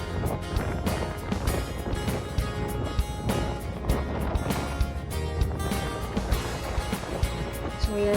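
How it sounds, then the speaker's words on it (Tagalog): A couple rides a motorcycle through Tagaytay, giving a continuous engine drone with steady tones and heavy wind buffeting against the microphone for the whole stretch. "So motor ride kami."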